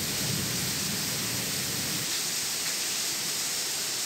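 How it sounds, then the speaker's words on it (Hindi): Steady, dense roar of heavy rain pouring down during a thunderstorm, loud and continuous with no pauses or voices. "इतनी ख़तरनाक बारिश हो रही है"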